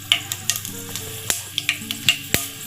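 Mustard seeds, cumin and tempering spices crackle and pop in hot oil for an egg curry, sharp bursts of spattering over a steady close sizzle, no voices.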